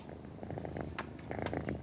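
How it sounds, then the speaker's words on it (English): A kitten in a Tokyo cat café purrs close up, a soft low rhythmic rumble pulsing steadily, with a faint brief rustle partway through. "Comforted and content, they purr like when they were kittens."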